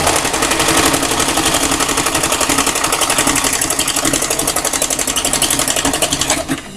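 A sewing machine stitching dollar-store fabric at a 2.5 tension setting, a loud, fast, even mechanical rattle running continuously close by before slowing and stopping at the end.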